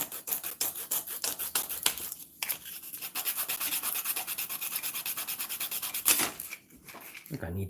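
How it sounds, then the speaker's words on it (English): Sandpaper scrubbing a small plastic part from a Revell Visible V8 engine model kit in fast back-and-forth strokes, a close, gritty rasping that pauses briefly a few times. "So apparently I do have to sand this."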